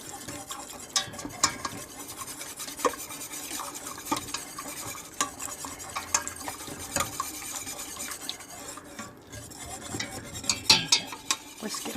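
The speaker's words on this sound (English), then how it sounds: "Whisk it really well." A whisk scrapes and swishes steadily through thick chipotle cream sauce in a pan, with a close, continuous stirring texture and light metallic clinks. A soft sizzle sits underneath, and no one speaks.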